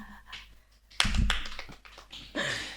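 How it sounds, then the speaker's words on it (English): Two podcast hosts clap together in a short burst of sharp, close hand claps, with quiet talk before and after. "I think we should clap"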